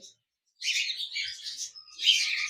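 Pet birds in a breeding box with a chick chirp in bright, rapid bursts, close and clear against near silence.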